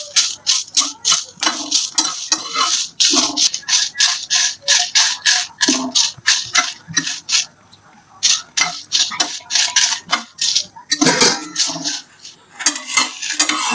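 Dry red chillies rattle and scrape in an empty kadai as they are stirred, giving a rapid, rhythmic clatter of bright taps. A voice speaks briefly between the clusters of stirring.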